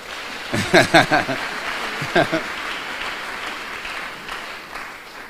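A church congregation claps and cheers in acclamation of the Lord, with a burst of claps and raised voices early, a second short flurry, then a fading murmur.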